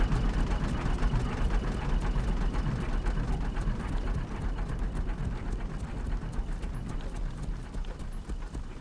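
A tractor engine in a video game runs continuously with a low, rumbling drone and a steady rough texture, moderately loud and unbroken.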